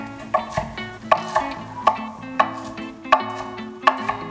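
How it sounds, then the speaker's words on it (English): Spinach being chopped into little pieces with a knife on a cutting board, a steady series of sharp, close knocks spaced roughly every half second. "Let's cut some spinach up into little pieces."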